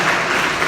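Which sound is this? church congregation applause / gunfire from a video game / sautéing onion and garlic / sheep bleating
church congregation applause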